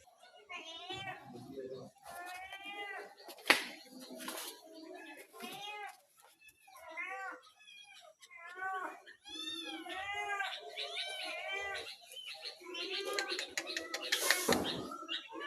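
A kitten gives a run of thin, high mews one after another, with some overlapping voices and household noise around it.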